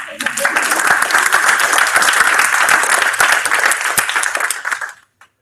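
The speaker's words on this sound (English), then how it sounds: "Also, a round of applause." Conference audience applause swells quickly and holds as a dense, steady clapping for several seconds before cutting off abruptly, with a voice faintly audible at the start.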